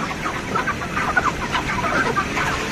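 A dense crowd of 43-day-old broiler chickens on a poultry farm keeps up continuous overlapping clucks and chirps, fairly loud and near, over the steady whoosh of fans.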